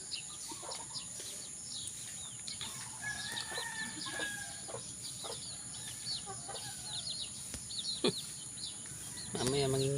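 Backyard chickens clucking and calling in short bursts, with a rooster-like cry mixed in, close by outdoors, plus a brief rustle near the end.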